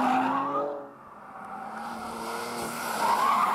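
A car brakes and corners hard on a driving course, its engine revving and dropping through a downshift before pulling again, with tyre noise along the bend, close and fairly loud.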